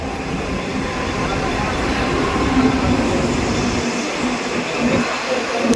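A local commuter train bound for Thane rumbling into a platform, steady low roar of wheels on rails with a faint squeal, crowd murmur underneath.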